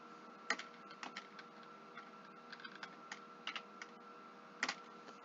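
Computer keyboard typing while working in Microsoft Word: a scatter of light, close clicks and key taps in short irregular bursts over a steady low hum, with no talk.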